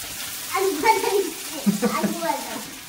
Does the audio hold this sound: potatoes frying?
yes